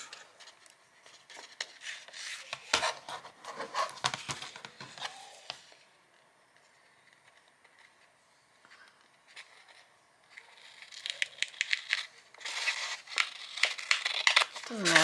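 Scissors cutting paper for a handmade glue book, a close run of crisp snips and papery crinkling, then a quiet pause before more rustling and snipping, with a voice talking in places.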